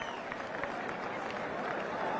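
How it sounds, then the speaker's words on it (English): Applause and crowd noise for Shane Watson reaching fifty in an India vs Australia one-day international cricket match, 2013: steady, dense clapping from a stadium crowd, even in loudness throughout with a broad hiss of many hands. "Good applause from their teammates"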